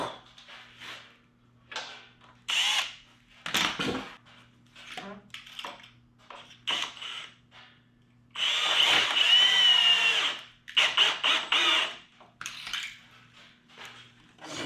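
A power drill drives 3-inch deck screws into boards while a mobile firewood rack is built. Two loud, close whirring bursts stand out among scattered knocks and wooden clatter, with quiet talk between them.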